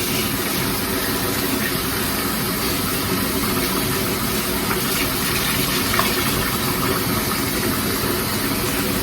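Water gushes steadily while an animal hide is washed under it, a loud, unbroken rush with no pauses and no talking.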